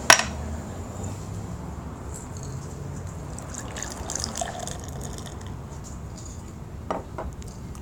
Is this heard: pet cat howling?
no